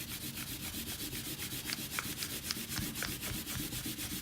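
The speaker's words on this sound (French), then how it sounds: "On peut gommer les traits de construction." An eraser rubs out pencil construction lines on drawing paper in quick, rhythmic back-and-forth strokes. The scrubbing is soft and close, with no other sound around it.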